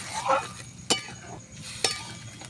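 A spoon stirs paneer curry in a pan after water has been added, with two sharp metallic clinks against the pan over a quiet scraping and faint background hiss.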